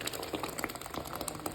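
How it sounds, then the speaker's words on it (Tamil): Ground masala paste, blended with a little water, being poured into a pot of mutton chops curry, giving a steady wet liquid pouring and bubbling sound with no talk. "அரைச்ச விழுதுகளை ஊத்திக்கலாம்."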